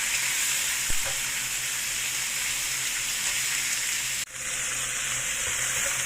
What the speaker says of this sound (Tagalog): Fry lang natin muna.